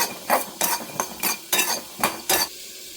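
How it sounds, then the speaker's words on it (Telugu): Peanuts dry-roasted in a pan without oil for ridge gourd chutney: a steady series of about seven rattling, scraping stirs at roughly even intervals, close and crisp, with quiet pauses between strokes. "బీరకాయ మగ్గేలోపు మనం పల్లీలు వేయించేసుకుందాం. పల్లీలు నూనె అక్కర్లేదు, మామూలుగా వేయించుకోవచ్చు."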